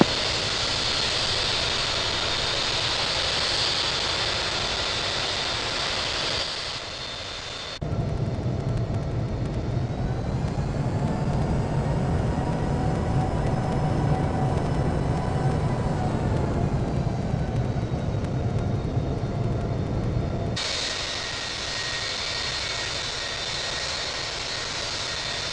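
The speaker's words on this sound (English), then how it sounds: "Air Force One is taking off runway 8 right, departing straight out" Air Force One jet departing runway 8 right: a steady, loud roar of jet engines that swells and holds through the middle, then eases back to a broad wash of engine noise, with no voices.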